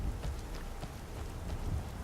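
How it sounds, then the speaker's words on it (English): Steady rain falls in Skyrim, a close, constant hiss with scattered drops spattering on surfaces and low rumbling underneath, with no voices. "And now it's starting to rain"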